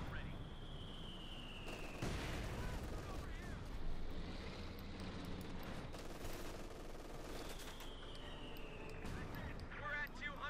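MG-42 machine gun fire in Company of Heroes 2 battle, sustained bursts and scattered explosions at moderate volume beneath a commentator talking throughout.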